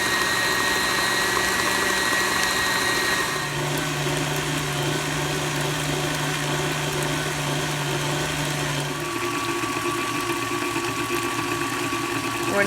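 A blender churning raw cow's milk cream into butter on a homestead: a continuous loud motor whir with sloshing that shifts in pitch partway through and again near the end.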